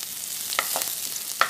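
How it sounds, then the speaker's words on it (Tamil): Mustard seeds, cumin and onion fry in hot oil for a Sri Lankan dish, giving a soft, steady sizzle with a few sharp crackles and pops, close by and with no talk. "இப்போ நான் பிளாக்காவுக்கு தாளிக்க போகிறேன்"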